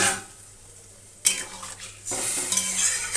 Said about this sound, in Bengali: চলো ঝোলটা দিয়ে দিই দিয়ে দিলাম ঝোল